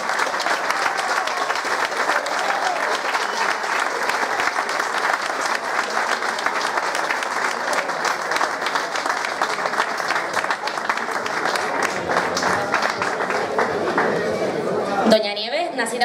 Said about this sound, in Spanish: Un aplauso para don Teleforo.